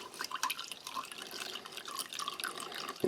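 Cold water trickles and splashes into a glass to dissolve a coarse ration powder, a steady light pouring that runs for a few seconds with no talking.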